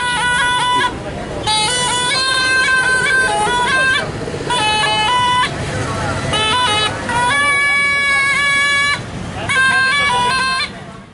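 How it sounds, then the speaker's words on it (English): Busy Jaipur street traffic blares with repeated horn blasts in uneven bursts, one after another, over a constant roar of engines and crowd noise. "The noise is tremendous, both from the hooting traffic to the hooting street musicians."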